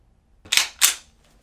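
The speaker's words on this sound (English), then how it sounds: "Three shots." Two sharp, loud 9mm full metal jacket gunshots crack in quick succession, about a third of a second apart, during a body armor penetration test, with near silence before and after.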